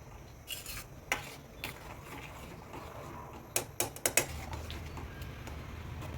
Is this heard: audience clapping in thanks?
no